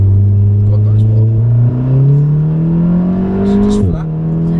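A Volkswagen Golf R with four-wheel drive accelerates hard, its engine note climbing in a loud, continuous drone heard from inside the car, then dropping abruptly at a gear change near the end.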